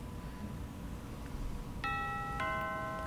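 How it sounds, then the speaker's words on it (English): A doorbell chime in the video game Mystic Destinies: Serendipity of Aeons, two clear bright tones ringing out one after another over a quiet background, loud and alone with no talk. "The sound of a doorbell rings through the house."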